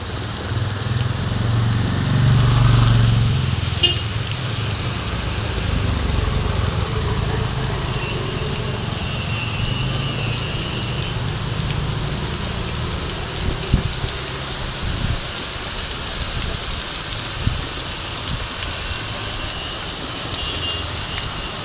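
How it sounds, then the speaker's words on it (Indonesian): Heavy rain falls on a quiet street as a steady broad wash, with a low engine rumble early on and a few scattered knocks, heard at moderate level. "Banget hujannya, gede hujannya."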